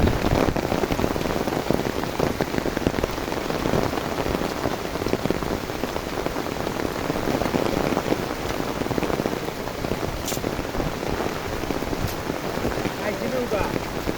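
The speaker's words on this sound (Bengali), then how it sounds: "তবে বৃষ্টি প্রচুর হইতেছে" Heavy monsoon rain pours down steadily over water-filled canals in rural Comilla, a dense, loud, continuous hiss of drops on surfaces that never lets up.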